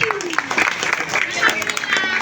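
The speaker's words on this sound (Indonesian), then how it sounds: "Tepuk tangan dong untuk SD 2 Langkapura." Crowd applause for an elementary school at a Maulid Nabi gathering, dense steady clapping over the whole stretch with voices mixed in underneath.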